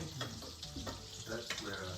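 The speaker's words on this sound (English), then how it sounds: "when it starts to bubble at the sides, it's ready to turn over" Mussel fritters fry in a pan with a soft, steady sizzle and a few faint clinks of a utensil, quiet and close, heard alone without talk.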